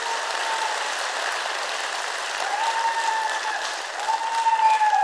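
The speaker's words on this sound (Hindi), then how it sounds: "जोरदार तालियां अपने लिए बजा दो" A large audience at a motivational talk claps loudly and steadily, the dense applause swelling a little louder toward the end, with no voices over it.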